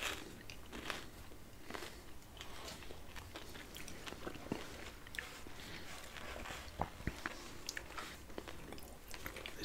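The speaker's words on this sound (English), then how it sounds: "If I haven't said this before, this is my favourite chewing gum. So I'm going to pop that in my mouth." Gum chewed close to the mouth, with soft wet clicks, squishes and small crunches repeating in a steady, quiet rhythm throughout, without any talking.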